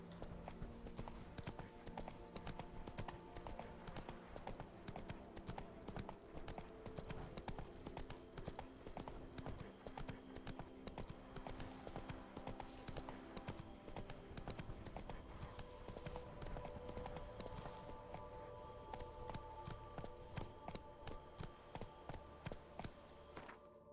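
The horse Roach in The Witcher 3 trots with rapid, steady hoof clip-clops, faint and continuous over a quiet game background for the whole stretch.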